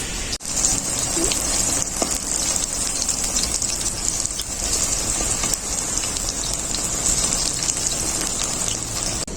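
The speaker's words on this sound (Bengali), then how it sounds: "বাকি পটলগুলো আমি একইভাবে ভেজে নেবো" Slices of pointed gourd (potol) frying in hot oil, a dense, even rain-like sizzle that holds steady and close for the whole stretch, with one brief knock near the start.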